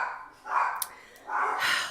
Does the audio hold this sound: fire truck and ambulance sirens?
no